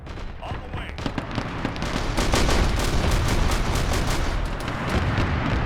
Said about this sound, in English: So you got a lot of small arms firing up here.